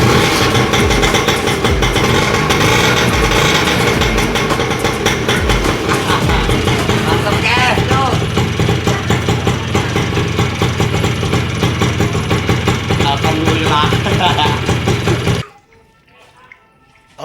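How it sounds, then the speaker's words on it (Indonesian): A Bajaj auto-rickshaw engine, similar to a Vespa scooter engine, runs loud and close with a steady rattling putter for about fifteen seconds, then cuts off abruptly into near silence. "Yang penting bajai nyala."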